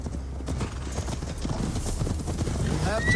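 Hooves clip-clop steadily as a horse is ridden in Assassin's Creed Valhalla, a continuous rhythmic trot sitting close and fairly loud, with game voices talking over it and a brief whinny-like tone near the end.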